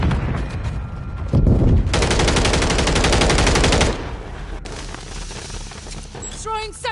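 Loud, close gunfire in a Call of Duty match, a sustained machine-gun burst in the middle with scattered shots before and after, and game voice callouts heard over it.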